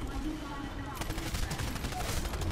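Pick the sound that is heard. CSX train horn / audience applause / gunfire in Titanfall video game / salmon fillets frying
gunfire in Titanfall video game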